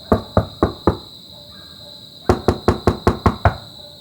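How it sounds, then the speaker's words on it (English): Two rounds of sharp knocks on a wooden door, four then eight raps in a quick steady rhythm, with a pause between them. "Reverend Tuck was knocking on Abby's door."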